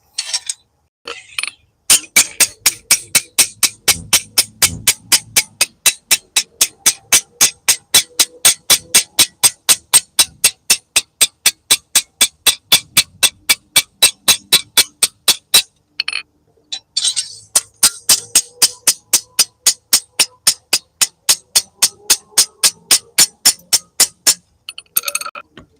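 Hammer striking a bent sword blade to straighten it, a long run of sharp, ringing metallic blows in a brisk steady rhythm, close and loud, with two short pauses before the pounding resumes.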